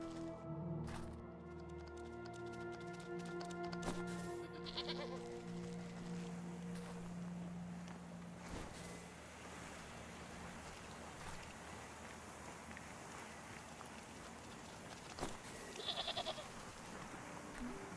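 A goat bleats a few times in the Wytchwood video game, the calls close and clear at first, then fading into a soft rushing ambience with a light chime late on.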